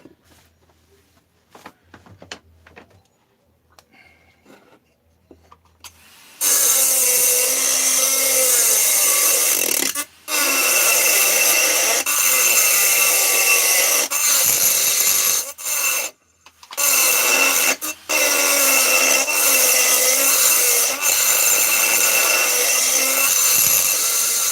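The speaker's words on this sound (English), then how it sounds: "I'm going to grind that basically as far back as I can." A grinder enlarges a small hole. After about six seconds of near silence, a loud, steady grinding starts and runs continuously, broken by a few brief pauses.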